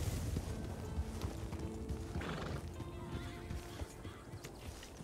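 A horse whinnies in Red Dead Redemption 2 amid steady clip-clopping hooves and creaky game ambience, fairly quiet and with no talking.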